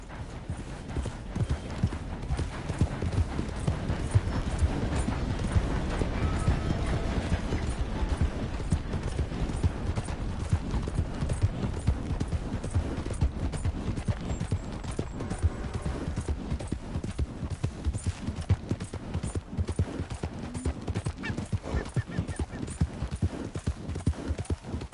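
Horse galloping in the Red Dead Redemption 2 video game, a steady, rapid drumming of hooves on the ground running continuously throughout, with faint ambient game sounds beneath.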